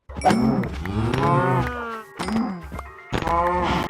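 Several loud, drawn-out cow moos from Minecraft follow one another closely, with brief pauses between them and nothing else in the background.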